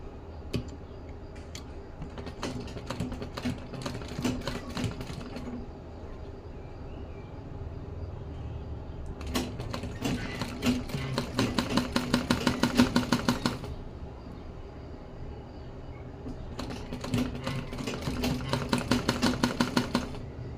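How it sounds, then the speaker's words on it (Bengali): A sewing machine stitches piping onto a baby dress in bursts, rapid mechanical ticking that runs for a few seconds, pauses, then starts again, close and moderately loud with no talking. "এখানে আমরা এইভাবে বাড়তি রেখে সেলাইটা শুরু করব।"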